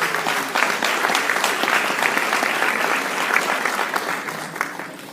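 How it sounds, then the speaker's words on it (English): Sustained audience applause for parents at a school gathering, a dense wash of many hands clapping steadily and loudly for several seconds with no talk over it. "So please give yourselves a round of applause"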